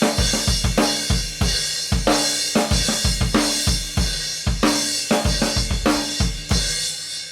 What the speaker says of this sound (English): He takes the ride pattern off the hi-hat and puts it onto the crash cymbal with the quarter notes